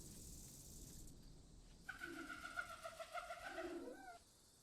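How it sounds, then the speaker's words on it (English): Video game bird sounds: a dove coos nearby in a short soft series of low hooting notes, alone over a quiet background. "Random bird sounds."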